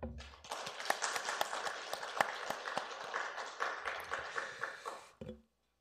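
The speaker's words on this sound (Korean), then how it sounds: "하나님께 영광의 박수 한번 올려드리기 원합니다" A church congregation claps together for about five seconds, a dense, steady applause with a few sharper individual claps standing out, then it stops abruptly.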